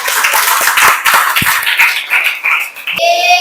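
A small audience claps after a classroom presentation, close and fairly loud uneven clapping for a few seconds, ending with a brief tonal sound.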